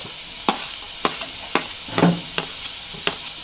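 Chopped garlic, shallots and onion fry in hot oil with mustard seeds for a jackfruit seed roast, giving a steady sizzle and hiss. Six sharp spoon scrapes against the pan repeat about every half second.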